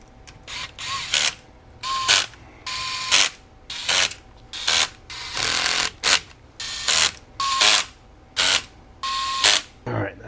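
A ratchet tightens engine bolts around the crank and countershaft of a supermini engine, giving repeated short bursts of close, sharp clicking separated by brief pauses, with someone speaking between some of the bursts.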